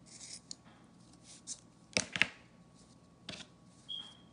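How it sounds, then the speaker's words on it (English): Scissors snip through tassel strings in a few quiet, separate cuts, with a cluster of sharper snips near the middle. "I'll cut my strings a little even"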